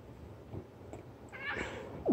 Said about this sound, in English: You're a very good kitty, except when you hiss at Bert.